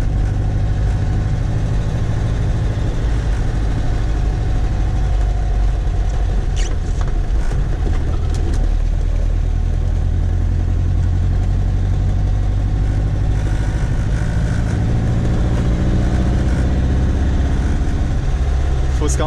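Volkswagen Beetle (Fusca) air-cooled engine pulling strongly in third gear up a street, a steady loud droning rumble with road noise throughout, heard from inside the car.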